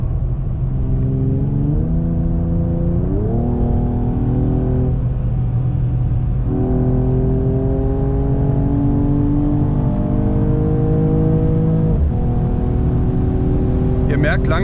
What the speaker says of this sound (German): wir machen jetzt hier mal einen kleinen Beschleunigungstest, beziehungsweise fahren wir jetzt mal bergauf mit dem Auto